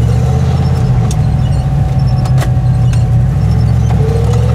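A turbocharged Chevrolet Suburban in four-wheel high pushes through snow, its engine a loud, steady, close low drone with a few faint higher clicks over the top.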